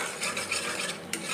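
An egg being stirred as it fries in a pan, with a soft steady sizzle and a few light scraping strokes close by.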